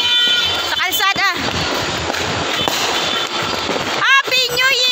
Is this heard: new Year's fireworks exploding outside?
yes